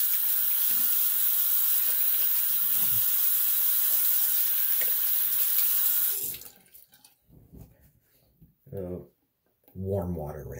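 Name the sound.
warm water running from faucet to rinse off shave soap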